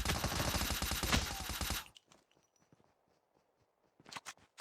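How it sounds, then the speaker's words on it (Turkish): Gunfire in the mobile shooter Call of Duty Mobile: a loud, dense burst of rapid automatic shots for about two seconds, followed by quiet scattered sounds and a short renewed burst near the end. "Silah sesi geliyor."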